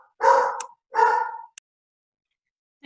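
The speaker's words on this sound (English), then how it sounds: "Who's barking?" A dog barks in the room during an online talk: two close, fairly loud barks about half a second each, then a short yip, followed by near silence.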